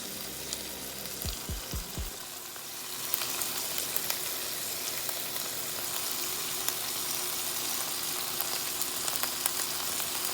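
Onions go into a hot pan for slow-cooked Southern oxtails: a few quick thumps as they drop in, then a steady, hissing sizzle that swells and holds, close and moderately loud.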